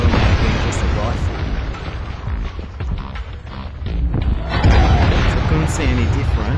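A grenade blows up in the video game SpyHunter: Nowhere to Run, a broad rumbling boom amid ongoing game noise, with someone talking over it.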